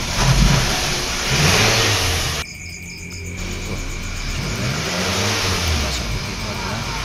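A Toyota Camry engine revs after a tune-up and combustion-chamber cleaning, climbing and falling in repeated surges close by, with a brief dip midway and insects chirping faintly behind.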